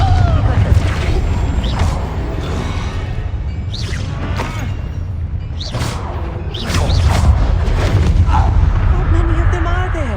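Blasting spell cast in the Hogwarts Legacy video game, a series of loud booming bursts and whooshes repeating through a busy battle soundscape, with voices speaking in places.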